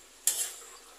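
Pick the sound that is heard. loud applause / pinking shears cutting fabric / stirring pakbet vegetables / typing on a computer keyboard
stirring pakbet vegetables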